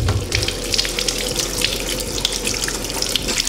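Cut sweet potato pieces rinsed under a running kitchen tap, a steady, loud gush of water splashing into a sink with a continuous hiss and no talk.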